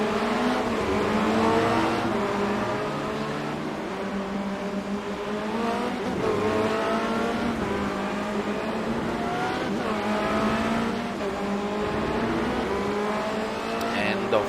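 Formula Renault 2.0 race cars lapping Monza in a racing video game, a steady layered engine drone with rising and falling pitch sweeps as cars accelerate and shift, running continuously under a commentator's talk.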